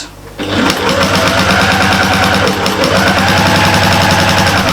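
A home sewing machine runs a long basting stitch on fabric for a storage caddy, whirring loud and close with a rapid, even mechanical rhythm that holds steadily after a brief quiet start.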